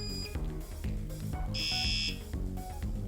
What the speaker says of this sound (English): So there's 3 different ringtones that I can choose.